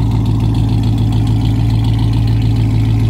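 A seventh-generation SRT8's V8 engine idles loudly and close, a steady deep rumble with an even, throbbing pulse throughout.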